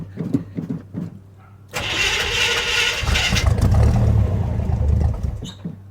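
A newly installed engine in a Suburban cranks over with a rapid rhythmic churning from the starter, loud and close, following a few quiet knocks, with faint voices nearby.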